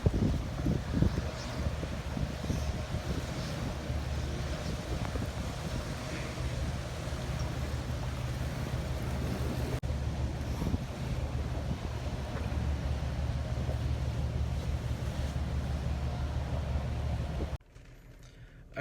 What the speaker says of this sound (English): It's getting pretty windy out.